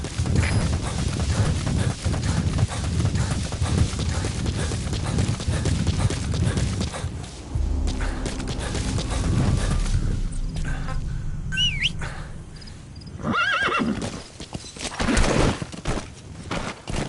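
A horse in the video game Metal Gear Solid V, hooves clip-clopping in a steady galloping rhythm for the first half, then slowing amid rustling outdoor ambience with bird chirps, loud and close with no talk.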